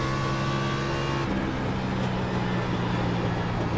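Racing car engine in the iRacing sim on an oval track, driven with a gamepad, a loud steady high-pitched drone held near full throttle with a slight pitch shift partway through, with no talking.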